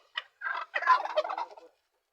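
A single close turkey gobble on a small farm, a short note followed by a rapid rattling burst lasting about a second.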